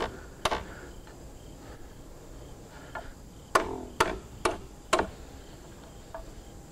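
Metal tapped against a flat surface to bend the top of a sign holder: about six sharp, separate hammer taps, several bunched closely together, over a quiet background hiss.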